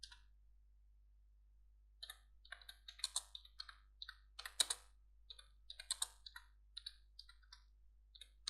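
Typing on a computer keyboard: after a quiet start, a run of crisp, close key taps comes in irregular bursts over a faint low hum.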